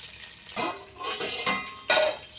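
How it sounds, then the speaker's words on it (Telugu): Finely chopped green chillies, coriander and curry leaves hit hot oil for biryani, each handful setting off a sharp burst of sizzle and crackle, three or four separate bursts close by. "ముందుగా సన్నంగా తరిగిన పచ్చిమిర్చి వేసుకుందాం కొత్తిమీర కరివేపాకు"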